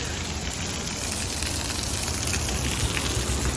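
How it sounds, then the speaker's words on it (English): Light rain falls steadily outdoors at the Rose Parade in Pasadena, a constant broadband hiss of drops without breaks and no talking. "So it's raining a little bit."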